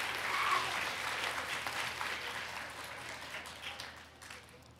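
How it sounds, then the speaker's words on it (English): Audience applause at the NYC Junior Ambassadors end-of-year event honoring a Queens school, PS/IS 116, the William C. Hughley School: a steady wash of many hands clapping, moderately loud, thinning slightly toward the end. "let's give a round of applause in spirit"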